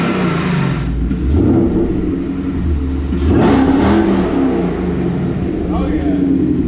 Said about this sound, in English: Yeah, she has a pretty good whine to her.